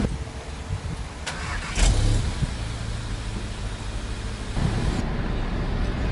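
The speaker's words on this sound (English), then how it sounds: "Okay guys, so driving the Mk7 Golf GTI." A Mk7 VW Golf GTI drives along with a steady engine and road drone heard from inside the cabin, with a few brief knocks and a slight rise in level near the end, and no talking.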